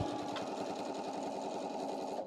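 A sewing machine runs steadily and loudly while stitching over a pin left in the fabric, a continuous close mechanical whir with no talk.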